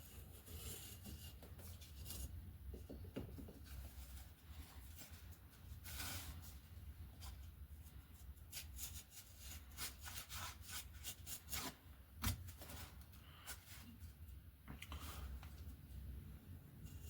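A hand plane shaving down the wooden wing edge of an RC Coyote glider, producing a steady run of scraping, rasping strokes, close and fairly quiet, with no voices.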